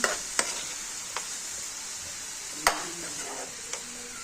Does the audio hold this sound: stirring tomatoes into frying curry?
yes